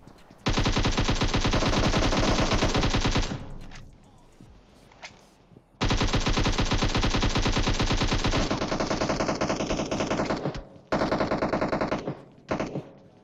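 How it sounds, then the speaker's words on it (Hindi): Automatic gunfire in the mobile shooter PUBG Mobile rattles out in long sustained bursts, loud and close, with brief pauses between volleys and a second rapid stream overlapping near the end. "मैं भैया लेफ्ट में गोली चलाए जा रहा हूँ पूरी गोली पेल दी"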